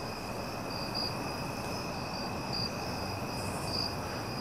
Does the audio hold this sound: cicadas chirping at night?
yes